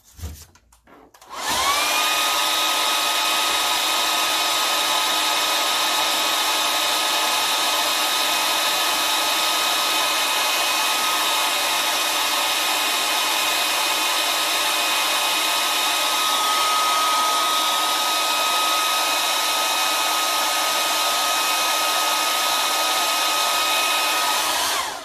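A hair dryer switches on after a moment of handling noise and runs loud and steady for the rest of the time, a constant close whirring blow used to dry paint on a space-themed painting.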